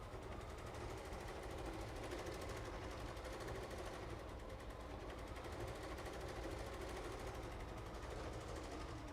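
A sewing machine quilts fabric, running as a continuous, rapid mechanical whir with a steady stitching rhythm at close range for the whole stretch.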